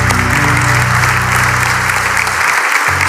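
A church congregation applauds loudly together, steady dense clapping that fills the room for about two and a half seconds before dropping away abruptly, with a low musical tone sustained underneath.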